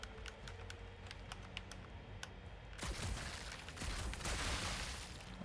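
Gunfire in the video game Marvel's Guardians of the Galaxy: a quick string of sharp, faint shots, then a denser, louder burst of fire, with no talking.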